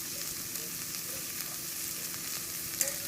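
Onions sauté in a pan with a steady, close sizzle and frying hiss that runs continuously throughout, with a faint stirring tap near the end.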